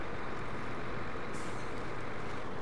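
A super heavy truck in SnowRunner rumbles along with a steady, dense engine drone, close and continuous, with a brief hiss of air partway through.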